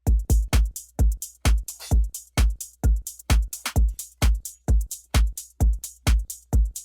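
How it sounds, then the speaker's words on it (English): Drum loop with the kick removed, playing alongside a reference loop: sharp, evenly spaced percussive hits with a steady, driving groove, crisp and prominent, with no talking. "So it sounds like a nice full drum loop."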